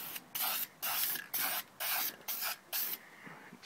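Spray paint hissing onto an airsoft gun in short repeated bursts, about six close, loud sprays with brief pauses between, then a softer trailing hiss.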